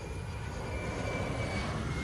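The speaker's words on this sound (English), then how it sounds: "and you may start engines" Airliner jet engine spooling up during pushback in a flight simulator game with the Zibo mod, a steady broadband roar and whine holding level and fairly loud throughout, alone with no talk.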